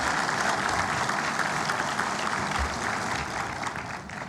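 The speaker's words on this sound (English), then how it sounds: "Please give them a big round of applause." Sustained applause from a large audience at a university convocation ceremony, dense even clapping that fills the space and eases slightly toward the end.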